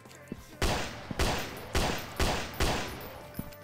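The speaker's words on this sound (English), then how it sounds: "I'm shooting zombies! In the heads." Gunshots fired at zombies in a zombie video game sound as five loud, evenly spaced blasts, each with a short decaying tail, close and punchy, with faint clicks between shots.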